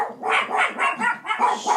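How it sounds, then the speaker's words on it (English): Several dogs bark in quick succession, a steady run of about eight sharp, fairly close barks with brief gaps between them, with no talking over them. "Dogs have showed up."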